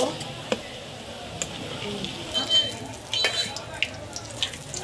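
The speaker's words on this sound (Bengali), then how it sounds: "পেঁয়াজের বেরেস্তা হয়ে গেছে, এখন নামিয়ে নেব।" Sliced onions frying in oil until crisp and brown for pulao, a continuous close sizzle broken by scattered clicks of a stirring utensil against the pan, with faint background voices.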